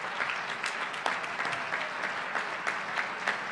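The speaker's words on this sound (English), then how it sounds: "I know you had all that pent-up applause, right?" Convention audience at a gubernatorial candidates forum applauding steadily throughout, a dense crowd of clapping hands with a few louder claps standing out, no speech over it.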